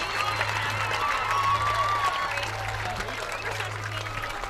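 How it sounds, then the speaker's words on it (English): Spectators at Fruth Memorial Field in Fond du Lac applaud the 2022 Athletic Hall of Fame inductees at a high school football game, a moderate, distant patter of clapping over a steady low hum, with voices mixed in. "Let's have a nice round of applause for all of our 2022 inductees."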